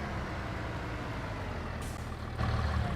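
Steady low rumble of a truck engine idling in Farming Simulator 25 while clearing land, continuous and fairly loud, with a short hiss of air brakes near the end and the engine note rising slightly as it revs.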